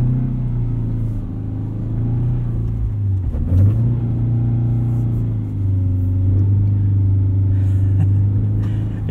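A 2022 Subaru BRZ on Falken Winterpeak F-Ice 1 tires claws through deep wet snow and slush, its engine droning loud and steady with a brief rev dip, tires churning underneath; no talking.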